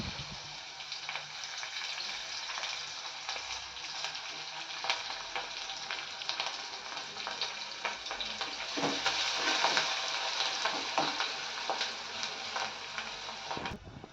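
Chopped onions with salt and curry leaves fry in a pan for an egg curry with cluster beans, giving a steady, close sizzle with a few soft stirring sounds and no voices.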